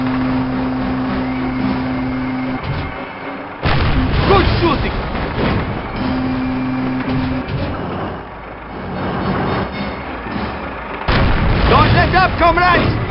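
Heavy gunfire and artillery booms in the Call of Duty video game, loud repeated blasts and bursts arriving in clusters, with voices speaking over the battle noise.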